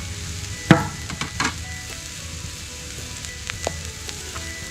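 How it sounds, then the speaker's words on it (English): Food sizzling and frying on an Arteflame grill, a steady hiss with a few sharp clinks and scrapes of a utensil stirring the food, close and without talk. "Hear that sizzle?"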